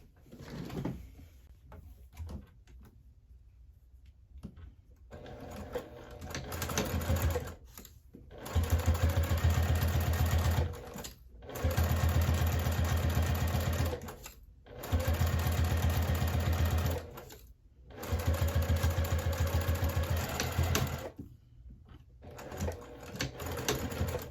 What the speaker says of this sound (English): we're just going to go ahead and go over to our sewing machine and just sew down either side at about 1/8 of an inch seam allowance